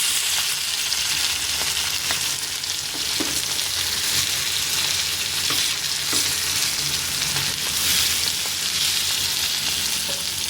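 Small fish shallow-frying in a pan after being turned to the second side, a dense, even sizzle and spatter that holds steady and fairly loud throughout, with no voices.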